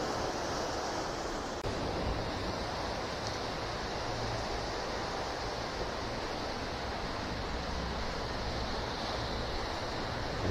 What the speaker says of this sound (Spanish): El mar continúa agitado